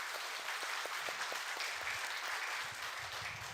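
A church congregation applauds during a Sunday morning anniversary service, a soft, even wash of many hands clapping that carries on steadily and sounds distant and fairly faint.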